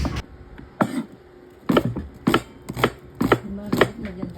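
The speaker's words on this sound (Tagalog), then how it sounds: "Isang pirasong onion slice natin." A knife chops through an onion on a cutting board while Filipino beef and eggplant is being prepared, giving about eight sharp, close knocks at an uneven pace with quiet pauses between them.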